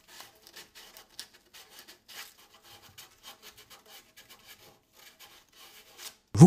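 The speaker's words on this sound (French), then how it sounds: "Éliminez les bavures avec un morceau de papier abrasif." Quiet, close rasping strokes of abrasive paper removing burrs from a cut pipe edge in a steady back-and-forth rhythm, ending with a sudden loud knock.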